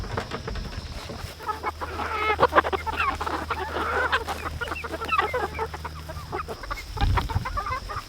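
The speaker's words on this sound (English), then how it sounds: "now we're moving chickens, moving egg layers" Egg-laying hens cluck and squawk as they are moved, a busy flurry of nearby calls over a low background hum, with a soft voice briefly near the end.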